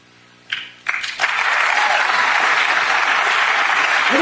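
A crowd audience breaks into applause after a couple of sharp sounds: clapping swells quickly and holds as a loud, dense, continuous roar of hands with some cheering.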